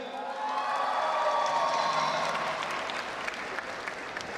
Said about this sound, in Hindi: लाला के लिए तालियां बजाएं।